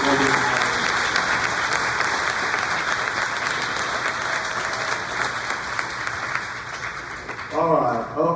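A sports banquet audience gives sustained, dense applause that fills the room for several seconds, then fades as a voice begins speaking near the end.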